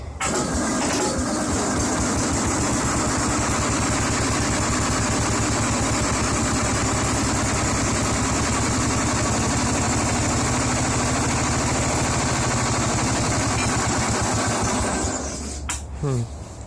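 A tractor engine cranks over and catches, then runs at a steady, loud idle close by for about fifteen seconds before shutting down with a brief clatter at the end.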